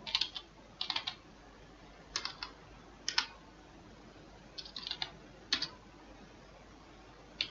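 Computer keyboard typing in short clustered bursts of quick clicks separated by brief pauses, close and fairly quiet, with no voices over it.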